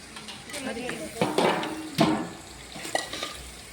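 Green onions stirred and frying in a pan for a Kathiyawadi dish, with soft sizzling, scraping and clinks of a utensil against the pan. The sound peaks in a few short bursts and stays mostly close and moderate.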